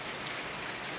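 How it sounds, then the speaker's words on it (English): Heavy rain suddenly pouring down during outdoor stone wall and roof building work, a loud, dense and unbroken hiss of drops. "Heavy rain out of nowhere,"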